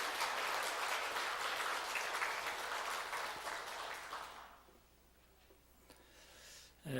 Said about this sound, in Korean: 우리 다시 한번 하나님께 영광의 박수를 올려드립시다.